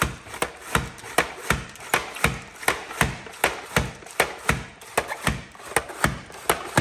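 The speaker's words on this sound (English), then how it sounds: "All right, I'm chopping the cabbage." White cabbage being chopped for pickling, a steady run of about twenty sharp, evenly spaced cuts close by with no talking.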